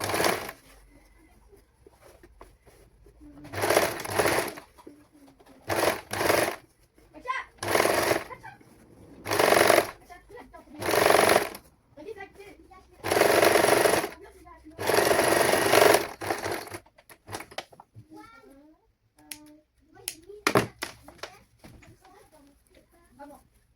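A sewing machine stitches a saree blouse in short, loud, close bursts of rapid whirring, about eight runs separated by pauses, with someone talking between them.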